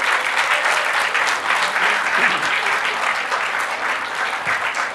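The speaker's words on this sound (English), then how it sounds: "A big round of applause to each one of you" Steady, dense applause from a large audience of doctors at a healthcare conference, clapping continuously at an even volume for several seconds.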